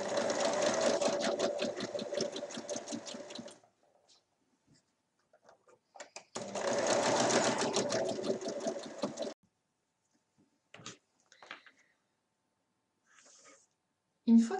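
A sewing machine stitches the bottom seam of a small half-moon fabric pouch in two steady buzzing runs of about three seconds each, loud and close, with quiet pauses and small handling clicks between them.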